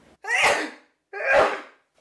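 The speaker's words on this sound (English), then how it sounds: "Oh god, I'm gonna sneeze." Two sharp, close sneezes in quick succession, each a loud burst that fades out, separated by a brief silence, from a singer getting ready before a gig.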